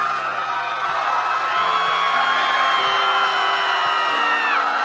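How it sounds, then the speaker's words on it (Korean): A distant crowd of people screams in anguish, a dense, steady wall of many wailing and moaning voices merging into a drawn-out, eerie drone with no single voice standing out. "그 순간 멀리서부터 사람들의 고통스러운 소리가 들려오기 시작합니다"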